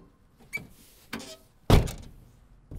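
The door handle on a rusty, long-neglected Mazda Miata is worked, giving a few separate clunks and clicks with a louder latching thunk near the end.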